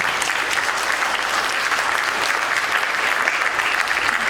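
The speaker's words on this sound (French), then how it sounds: "Je pense qu'on peut les applaudir pour ces gens." Dense, sustained applause from a conference audience, loud and even throughout with no letup.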